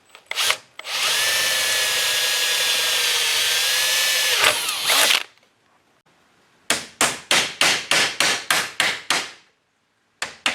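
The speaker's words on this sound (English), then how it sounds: "So drill this rivet out." A power drill whines loudly for several seconds, stops, then fires in a rapid series of short bursts, close by, with no talking, drilling out rivets while installing dual electric cooling fans.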